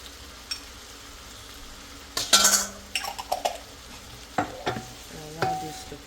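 Garlic and ginger paste fried over low heat in a pan for chicken biryani, heard as a faint steady sizzle with a few sharp clinks and scrapes of a spoon stirring against the pan.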